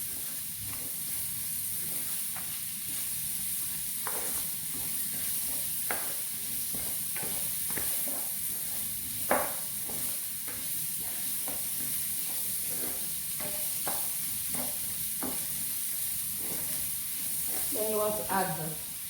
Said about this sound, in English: I'm going to saute it with onion for like less than 1 minute is fine